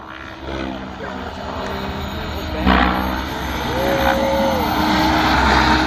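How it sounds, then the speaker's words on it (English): A model jet makes a slow pass at an RC airshow, its turbine whine rising and swelling steadily and loudly as a commentator talks over it. "Just showing off the slow speed capability of that jet."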